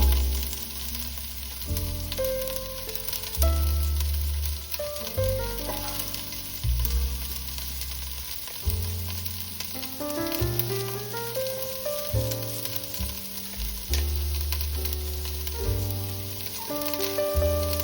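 Onion frying in a pan as the base for a quick coconut soup gives off a soft, continuous sizzling hiss that sits under prominent background music throughout.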